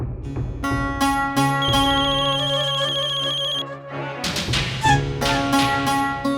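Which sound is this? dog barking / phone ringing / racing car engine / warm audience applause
phone ringing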